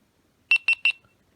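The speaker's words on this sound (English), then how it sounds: "And those are just the beeps" A GoPro Hero 7 Silver camera powering on gives three quick, identical high electronic beeps in an even rhythm, close and clear against near silence.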